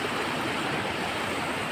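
River water rushes and flows in a continuous, even hiss of moderate loudness, with no voices and no breaks.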